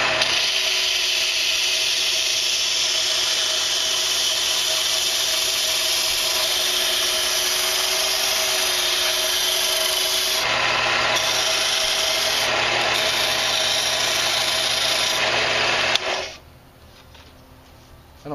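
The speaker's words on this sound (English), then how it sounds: "But we're going to go ahead and just sand this off." A small power sanding tool grinds steadily against a handmade mini flute, a loud continuous whine and rasp that shifts pitch briefly near the end before cutting out to quiet.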